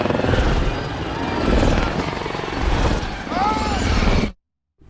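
Helicopter crash from the 2007 film I Am Legend: loud rotor roar and rumbling engine churn with whining mechanical tones, cutting abruptly to silence near the end, with voices faintly mixed in.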